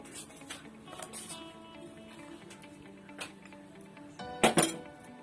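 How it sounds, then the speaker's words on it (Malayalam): Custard being stirred into milk in a bowl for custard ice cream, with soft scraping and light clinks of a utensil against the bowl, a couple of sharper clinks near the end, no talking. "നല്ലോണം മിക്സ് ചെയ്തെടുക്കുക."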